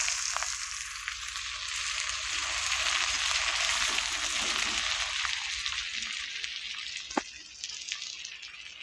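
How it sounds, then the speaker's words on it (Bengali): Chopped onion frying in hot oil for an egg kofta curry: a steady, close, bright sizzle that holds for the whole stretch, with a few sharp pops near the end. "পেঁয়াজটা খুব হালকা করে ভেজে নিতে হবে।"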